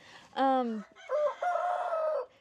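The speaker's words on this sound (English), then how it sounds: "I'm coming to you today live from the chicken coop" Chickens in a backyard farm coop, with one rooster giving a loud, close crow in two parts, a falling first call followed by a drawn-out second phrase.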